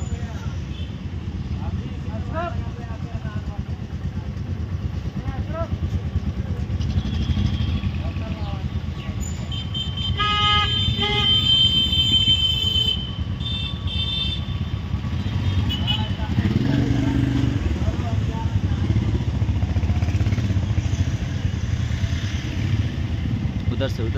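Royal Enfield motorcycles idle and rev nearby as a group ride sets off in Jharkhand, with steady low engine rumble, throttle blips and passing bikes, while people talk over the engines throughout.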